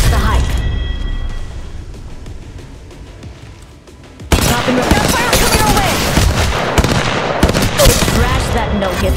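Gunfire in the Apex Legends Mobile battle royale, dense bursts of automatic shots crackling loudly after a quieter opening, with players talking over the shooting.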